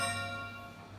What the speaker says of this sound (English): Just had to wait for 9 chimes.